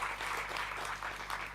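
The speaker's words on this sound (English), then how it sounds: "Give yourselves a round of applause" Audience applause fills a conference hall at the launch of the International Decade of Indigenous Languages, a steady dense wash of clapping at moderate level with no pauses.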